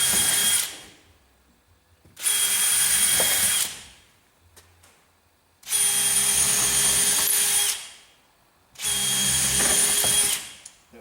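A power drill whirs in three bursts of a couple of seconds each, driving a screw into plywood, with quiet pauses between.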